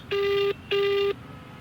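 Two evenly spaced electronic ringback tones, each a steady beep lasting about half a second, with a short gap between them over faint background hiss.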